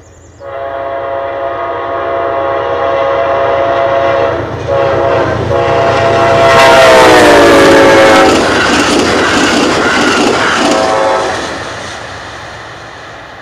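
A train rumbles past with rhythmic clatter while its horn blasts loudly for several seconds, the horn pitch bending as it goes by.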